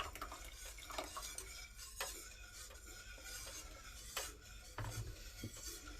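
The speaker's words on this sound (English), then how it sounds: "gently stirring for a bit" Rice pudding thickened with rice flour stirred gently in a pot, a soft continuous scraping with light clinks of the utensil against the metal, quiet and close.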